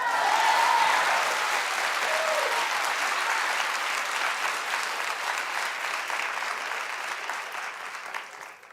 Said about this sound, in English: you can clap and be happy for her